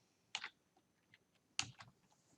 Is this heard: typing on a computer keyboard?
yes